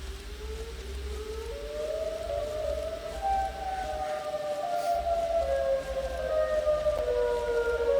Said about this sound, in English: Here goes Siren Head too